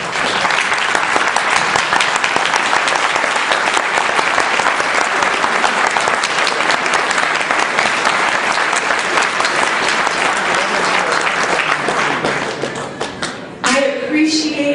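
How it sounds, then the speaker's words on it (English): A crowd at a Nullify Now political event in New Hampshire gives a sustained round of loud, dense applause that carries on for several seconds before tapering off, with a voice briefly emerging at the end. "please stand up for a round of applause"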